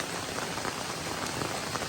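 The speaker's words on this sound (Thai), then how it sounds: "ฝนตกนะทุกคนฝนตกแรงมากเลย" Heavy rain pours down steadily in a forest on a mountainside, a dense, even hiss of drops striking leaves and ground with no pauses, fairly faint and unbroken, with no voices.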